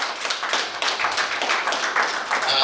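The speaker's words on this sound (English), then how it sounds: "who gave them a round of applause again" A room full of conference attendees applauds the speakers at a human rights event, with dense, continuous clapping at close range and no talking over it.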